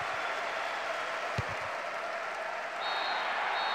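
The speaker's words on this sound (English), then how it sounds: "The ref ends the game and a huge roar from the crowd." A stadium crowd in Pro Evolution Soccer 6 roars and applauds without a break, a dense, steady wash of noise that swells a little near the end, with a brief thump partway through.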